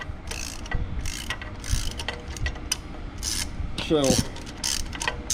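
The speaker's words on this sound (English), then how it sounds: "Okay, getting these bolts here popped out." A wrench works the exhaust manifold bolts on a Case 305 tractor, producing repeated close ratcheting clicks and metallic rubbing in short bursts, with a brief word spoken partway through.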